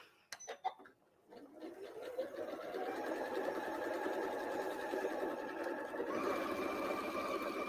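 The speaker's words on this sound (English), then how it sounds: "I'm just putting that row of stitches right through the bottom of that serger seam" A sewing machine runs a straight stitch along an apron seam, through a serger seam. It starts after a few clicks and then settles into a steady, close, even motor whir that lasts to the end.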